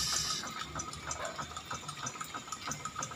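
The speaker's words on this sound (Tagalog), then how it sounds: "medyo mahina lang yung tulo niya" Water trickling weakly from a ram pump delivery pipe raised about seven meters to a second floor, a steady soft splashing flow heard close with no voices.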